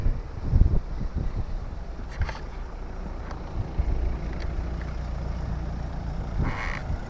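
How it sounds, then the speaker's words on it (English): Strong gusting wind at a sea fishing spot buffets the microphone with a steady low roar and heavy rumbling bursts, and no voices are heard over it. "It is windy. It is so windy."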